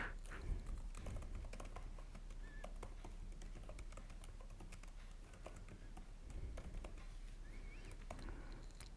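Quiet, irregular tapping of a computer keyboard while typing a query into a chat tool, soft keystroke clicks scattered over a low hum with no speech.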